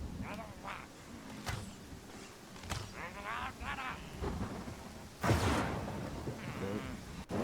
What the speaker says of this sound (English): walk slow through the rain